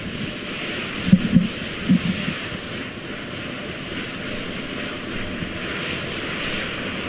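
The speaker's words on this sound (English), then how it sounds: "Those are auxiliary power units, high-speed turbines which provide pressure to hydraulic pumps that steer the RS-25 engines." A steady high-speed turbine whine with a broad roaring hiss comes from the auxiliary power units of NASA's SLS rocket for Artemis II, which supply hydraulic pressure to steer the RS-25 engines, heard continuously from a distance with a few brief thumps early on.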